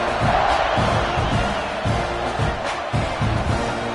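Football stadium crowd at a Texas A&M versus Clemson game roars steadily as the kickoff is set, a dense, loud wall of cheering with occasional whoops and swells throughout.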